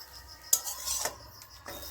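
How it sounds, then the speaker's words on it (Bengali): Aloo paratha frying in a little oil in a kadai, pressed down against the pan, gives soft scraping and light sizzling with a couple of sharp utensil clinks, close and fairly quiet. "দেখুন এইরকমভাবে ভাজা হচ্ছে জিনিসটাকে কড়ার সাথে চেপে চেপে"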